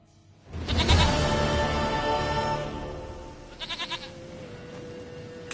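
A goat bleats in the Witcher 3 video game, one long loud call followed by a short run of quicker wavering bleats, with game ambience underneath and no talking.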